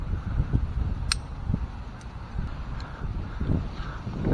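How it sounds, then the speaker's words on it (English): Steady wind gusting around a tree climber up in a large ash tree on an autumn day, a continuous low rushing roar with swelling gusts and faint scattered ticks, no talking. "that wind's blowing good"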